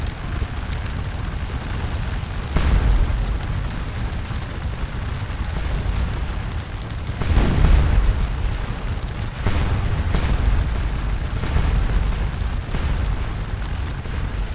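Booming artillery fire from a Napoleonic-era battle at Waterloo in Scourge of War, with heavy low rumbling blasts swelling at intervals over a constant dense battlefield roar, no voices.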